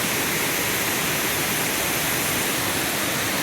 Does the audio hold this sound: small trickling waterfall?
yes